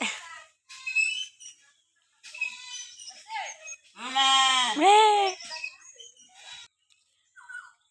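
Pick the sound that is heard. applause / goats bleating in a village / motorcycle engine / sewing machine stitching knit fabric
goats bleating in a village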